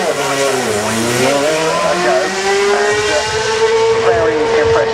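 A Chevy Monte Carlo NASCAR race car from the Whelen Euro NASCAR series roars loudly at the Goodwood Festival of Speed, its engine note climbing then holding a steady, sustained pitch throughout.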